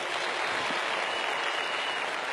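A crowd at a company award function claps hard and continuously, a thick wash of applause at full strength throughout the brief stretch with no speech on top.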